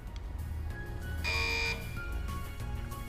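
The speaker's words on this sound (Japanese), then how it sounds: "いえ、今度は侵入警報です" An intrusion alarm in the game Ray Gigant sounds as a loud, steady electronic buzzer tone lasting about half a second, set against a dense, continuous low rumble of game background sound.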